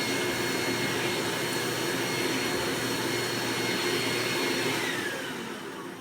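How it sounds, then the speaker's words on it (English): A Eureka The Boss Mighty Mite II canister vacuum cleaner, its hose looking chewed up, runs with a loud, steady whine and whoosh close by, then begins to wind down in the final second. "we're going to vacuum it"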